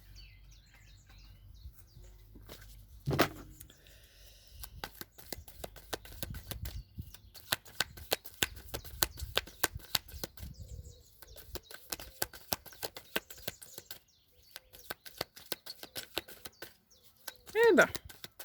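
A deck of tarot cards is shuffled in uneven bursts of dry riffling and slapping, stiff cards that do not slide smoothly, with quiet pauses between handfuls and a brief voiced exclamation near the end.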